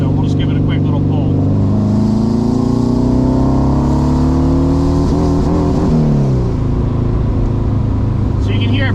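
A Porsche 914 engine run on a Haltech ECU revs hard toward 5,000 rpm, close and loud, its pitch climbing steadily and then wavering and breaking up slightly before settling back down.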